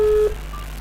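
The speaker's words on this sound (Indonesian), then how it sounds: "Kita coba calling sekali lagi ya." A phone call's ringing tone sounds as one short, steady, low beep lasting about a third of a second, then cuts off to a quiet line.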